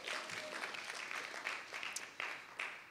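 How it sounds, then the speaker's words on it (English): An audience at a congressional community conversation on race applauds in a dense, steady patter of clapping that runs throughout, moderately loud with a few sharper claps toward the end. "Let's have another round of applause for our emerging leaders in this community."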